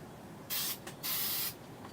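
A spray paint can gives two short hissing bursts close by, the second longer, with a brief pause between them and quiet around them.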